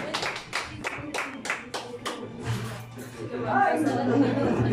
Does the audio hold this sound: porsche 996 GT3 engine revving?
no